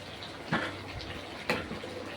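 Soy sauce poured into simmering pork humba with little broth left, heard as two short liquid splashes roughly a second apart over a low background hiss.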